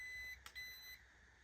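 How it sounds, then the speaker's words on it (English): Two short electronic beeps in quick succession, high-pitched and faint, from a nearby Ascend Aeronautics ASC-950 ducted fan drone controller. "here's the double beep."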